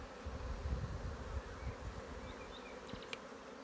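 Honey bees buzz densely over a hive frame, a close, continuous hum with a few louder passes of individual bees near the end.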